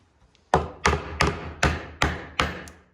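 A small hammer taps a cabinet part flush, six sharp, close knocks spaced about every third of a second, each ringing briefly before the next.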